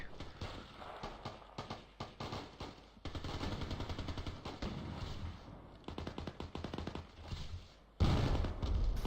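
Rapid automatic gunfire from Battlefield Play4Free, an online shooter game, cracks out in dense continuous bursts with brief pauses, loud and close throughout, with heavier blasts near the end.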